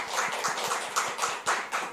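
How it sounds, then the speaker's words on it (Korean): A church congregation applauds the worship team during a Friday prayer service, a dense steady patter of many hands clapping at moderate distance with no voices over it. "우리 성도님들의 손을 빌려서 함께 격려할까요? 박수로."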